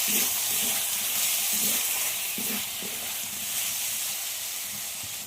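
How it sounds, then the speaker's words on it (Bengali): Chicken sautés in a pan with ground coriander and roasted cumin powder, producing a continuous moderate sizzle broken by several soft scraping stirs, close by with no talking. "আবারও কষিয়ে নিতে হবে।"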